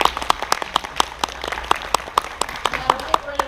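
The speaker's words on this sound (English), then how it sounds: "So give yourselves a round of applause." A small audience claps in separated, loose claps for donors at a Megaplex convention presentation, a steady patter of individual hand claps close by, with a voice or some murmuring under the clapping near the end.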